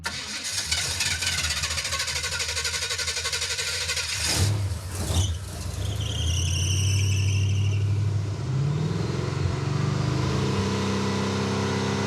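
A Camaro engine cranks and fires after an ignition timing adjustment. It catches with a loud squeal, then settles into a steady, throbbing idle close by, with sharp bursts partway through.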